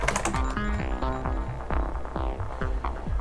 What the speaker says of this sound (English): it's the white Rosewill mechanical keyboard. Nice balance between tactile